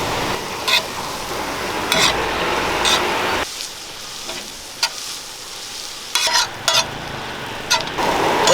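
Green chilies sizzle and fry in a pan for kothu parotta, with steady frying hiss broken by repeated scraping stirs and a few sharp clanks of the utensil, close and fairly loud.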